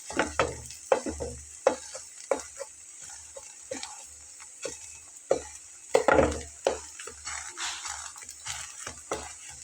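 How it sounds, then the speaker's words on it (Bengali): Round flatbread batter frying in a pan for a quick Bengali breakfast, with a faint sizzle under repeated soft scraping and tapping of a spoon, irregular and close, with no voices. "আমি এটাকে দেখুন রাউন্ড শেপ করে দিয়েছি, এটা ভাজা হচ্ছে"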